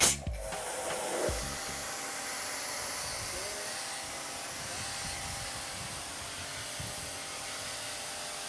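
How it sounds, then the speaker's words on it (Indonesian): High-pressure pump spraying water to wash a cover in an urban vegetable garden: a brief clatter and then a steady, broad hissing spray that stays loud and even throughout. "saya semprot dulu ya tutupnya dengan high pressure pompa"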